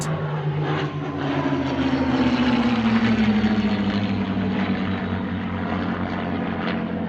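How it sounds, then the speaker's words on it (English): A CA-18 and a Spitfire Mark 8 fly over an airshow at Scone, their loud, steady propeller engines droning without a break and shifting slowly in pitch as the pair passes. "the CA-18 flew with another aircraft from that organisation, a Spitfire Mark 8"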